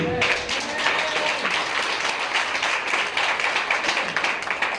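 A church congregation applauds, and steady, dense clapping fills the room without a break. It is loud and fairly close and continues through the whole stretch.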